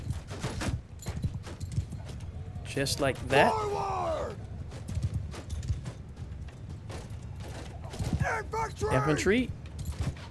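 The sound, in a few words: horses' hooves clip-clopping in Mount & Blade II: Bannerlord video game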